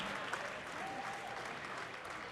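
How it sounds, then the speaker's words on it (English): Boxing crowd at an eight-round welterweight bout in Indio applauding steadily, a dense, fairly distant wash of clapping with a faint voice briefly audible underneath. "Let's get a big Indio round of applause for these two warriors"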